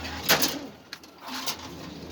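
Afsan racing pigeons cooing softly in a loft, low murmuring coos with a few brief higher sounds, fairly faint.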